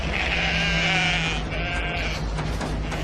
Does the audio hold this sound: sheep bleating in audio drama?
yes